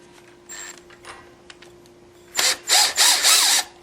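A power drill in reverse backs screws out of a Fender Stratocaster guitar's tremolo assembly, giving four loud, close whirring bursts in quick succession after a quieter stretch of faint handling noise.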